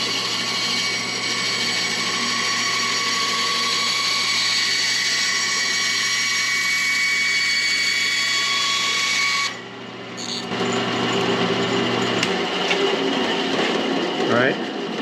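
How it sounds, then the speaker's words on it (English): A power tool steadily cuts a piece at an angle for a DIY fly casting basket, giving a loud, continuous mechanical whir that stops partway and then resumes with rougher cutting noise. "I'm hoping that I can cut this at an angle"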